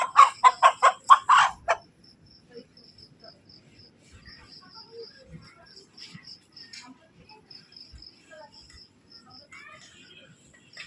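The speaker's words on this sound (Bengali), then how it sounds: "আর একেবারে তাজা মুরগি, জীবিত মুরগি" A live chicken clucks in a fast series of loud, close calls for about two seconds, followed by a mostly quiet stretch with faint scattered sounds.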